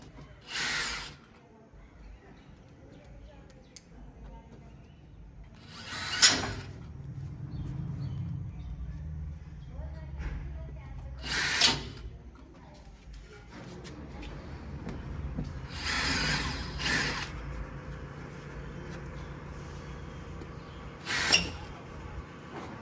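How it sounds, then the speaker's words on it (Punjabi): A reversible power drill runs in about six brief whirring bursts spread across the stretch, screwing and unscrewing fasteners, moderately close, with low background rumble between bursts. "ਮਸ਼ੀਨ ਦਾ ਇੰਨਾ ਫਾਇਦਾ ਵੀ ਪੁੱਠੀ ਸਿੱਧੀ ਚੱਲੀ ਜਾਂਦੀ ਹੈ"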